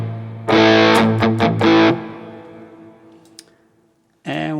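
Electric guitar played through a Mesa Mark amp model on a Fractal FM9 with the bass turned down and lighter distortion: loud overdriven strums and short choppy chord stabs ring out and decay, then one more chord hits.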